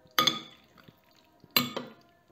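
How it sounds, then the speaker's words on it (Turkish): A spoon mixes raw anchovies with salt in a dish, giving two short, close clinking scrapes of metal against the bowl with quiet gaps between. "Bunu elimi ıslatmamak için kaşıkla karıştıracağım."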